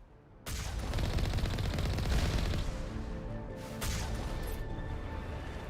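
Turret gunfire in Mass Effect Legendary Edition, a loud, sustained rapid stream of shots that starts abruptly and rattles on continuously with dense, booming impacts.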